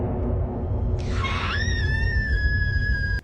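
A shrill scream in an AI horror video rises suddenly and holds as a sustained, piercing wail over a steady low rumble for about two seconds, then cuts off abruptly.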